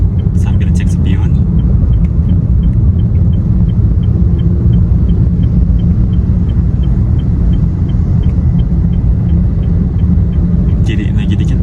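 A manual car driven on a busy main road gives a loud, steady engine and road rumble throughout while a voice talks over it.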